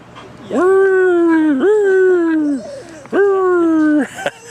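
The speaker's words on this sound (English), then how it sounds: "Beautiful dogs. Husky?" Husky dogs give long, high, wavering whimpering whines, two loud drawn-out cries close by at an outdoor protest, with a short pause between them.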